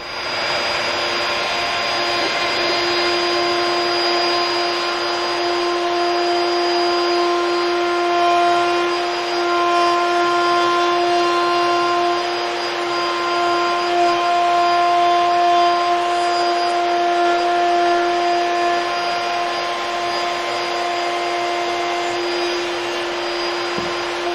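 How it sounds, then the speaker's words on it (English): A router table spins a bit at a constant high whine while wood is fed over it to cut a stopped dado, a loud sustained tonal drone lasting the full length with slight swells. "I can bring my piece down on top of the router bit, feed across, stop at the leading edge of the router bit"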